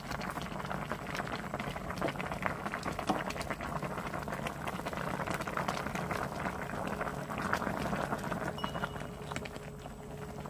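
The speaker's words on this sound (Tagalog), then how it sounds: "Nakulo na nga itong ating nilulutong isda" Fish sinigang with talakitok in a tomato broth, with okra, string beans and water spinach, boils steadily in a covered pot, giving a dense, continuous bubbling and churning that stays even and close throughout.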